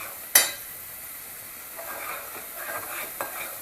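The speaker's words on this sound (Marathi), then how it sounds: "हा मसाला आहे तो चांगला परतून घेऊया." Mutton masala sautéing in a pan for Satara-style dry mutton, with a sharp metal clink at the start, then a soft, continuous sizzle and occasional scraping stirs.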